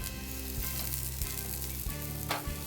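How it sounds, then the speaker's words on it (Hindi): Eggplant slices sizzling in mustard oil on a tawa griddle, a steady close frying hiss with a low continuous hum underneath and faint shifting noises, no talking. "देखिए बैगन को इस तरह से डिप करके फैला देते हैं।"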